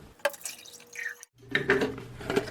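Shallow water poured from a Pyrex glass dish into a shower splashes and trickles in short uneven bursts, close and fairly loud, with a brief pause midway.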